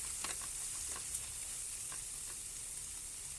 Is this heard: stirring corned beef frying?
yes